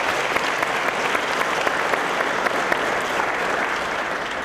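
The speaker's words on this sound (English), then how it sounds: "so give them a great round of applause." Steady applause from a crowd, continuous clapping at an even level for several seconds with no talking.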